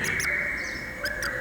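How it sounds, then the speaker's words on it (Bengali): A koel calls nearby, giving a few sharp, high repeated notes over a sustained whistling tone. "বাইরে কোথায় যেন একটা কোকিল ডেকে উঠল।"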